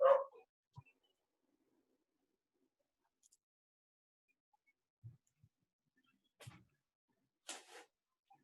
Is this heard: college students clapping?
no